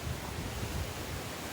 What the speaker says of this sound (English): It's so windy, I apologise about the wind sound